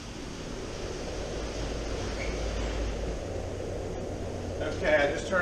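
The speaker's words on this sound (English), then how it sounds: "I just turned my air evacuator pipe system on" An indoor exhaust air evacuator pipe system runs in a workshop where an old 1989 Kawasaki KX250 two-stroke motocross bike is being restored, giving a steady broad rushing roar with a brief louder rustle near the end.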